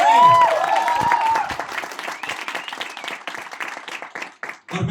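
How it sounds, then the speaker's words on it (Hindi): A crowd applauds at a Vestige direct selling company event in Nepal, with dense, loud clapping that fills the hall from the start, holds steady, and thins slightly toward the end. "जोरदार तालियां आप सबके लिए"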